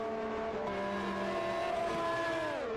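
Sim racing cars on the Saudi Arabian Grand Prix circuit in a Superleague race, engines droning in close harmonic whine that climbs and shifts pitch as cars swap places, steady and near.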